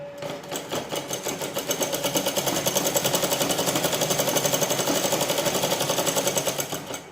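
A sewing machine runs continuous straight stitching on a cancan petticoat, a steady fast mechanical whirr with rapid needle rhythm, loud and close, building slightly and holding for the whole stretch without talk.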